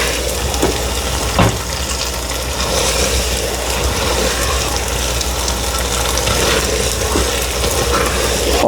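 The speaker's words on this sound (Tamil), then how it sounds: "ஆல்ரெடி வறுத்த பயிருங்கோ என்ன அதுக்கு எண்ணெய் இருக்குது அதோட சேர்ந்து பொரியும்" Roasted green gram frying in oil gives a constant, close sizzle with soft stirring scrapes throughout, no voices.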